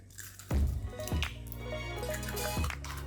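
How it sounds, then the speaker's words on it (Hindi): Two eggs are cracked into a bowl: three soft, wet taps and squishes spaced over a few seconds, each followed by a faint drip, quiet and close with no voices. "2 अंडों को हम लोग इस तरह से तोड़ देंगे और एक बाउल में डाल देंगे इसको"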